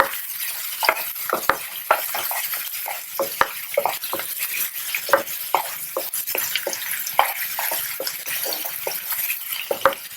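Onions frying in a pan for vegetable upma, with a steady sizzle broken by frequent scraping clicks as a spoon stirs them, close and continuous.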